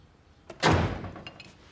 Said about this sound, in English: Did you hear the front door